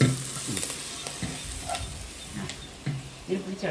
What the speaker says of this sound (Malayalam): നന്നായി ഇളക്കുന്നു ചിക്കനൊക്കെ വെന്തിട്ടുണ്ട്